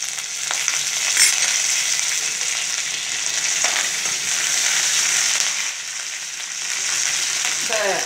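Grated coconut and curry leaves fry in hot oil for a groundnut beetroot kootu, a steady close sizzle with scattered crackles and pops that swell and ease over several seconds, with no talking.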